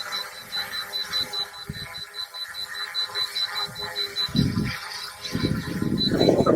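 A drone's obstacle sensor beeps, a regular high-pitched electronic tone repeating rapidly and steadily, with low rumbles and handling noise in the background.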